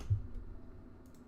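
Typing on a computer keyboard, a few soft quick key clicks close by followed by quieter tapping, faint and brief with no talk.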